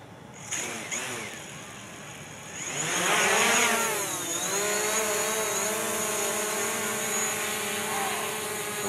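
A DJI quadcopter drone spins up and lifts off, its motors rising into a loud whining buzz with shifting pitch that then settles into a steady hovering drone, with no talking.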